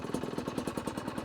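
A Chinese dirt bike engine with a recently adjusted carburetor idling close by, producing a quick, even chain of thumping exhaust pulses at a steady rhythm.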